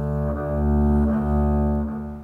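A bowed string played with the bow near the fingerboard sustains a steady, soft, mellow note with rich low harmonics and gentle bow changes, played alone up close.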